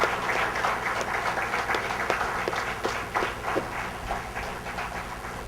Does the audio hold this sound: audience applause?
yes